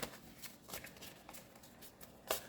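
A Sacred Forest Oracle card deck is shuffled in a few quick riffling bursts, close and fairly quiet, with the last burst the loudest and no talking over it.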